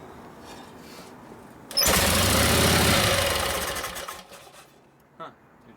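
A 1952 Harley-Davidson FL panhead with a Linkert carburetor bursts into loud, close, uneven running for about two seconds, then falters and dies away, with a brief blip afterwards.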